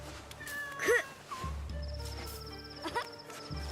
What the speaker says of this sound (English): Did I just come into someone's house and steal their cat?